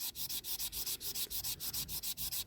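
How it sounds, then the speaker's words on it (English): Rough sandpaper rubbing back and forth on a 1970s Tonka Ford Mustang toy, a fast, steady run of about a dozen scratchy strokes, loud and close with no talk. "If you want to do this roughly with rough sandpaper and then go on to wet and dry"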